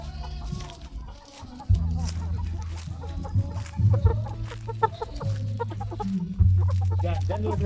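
Chickens clucking steadily in a busy coop, several birds close by with overlapping calls and a low background hum.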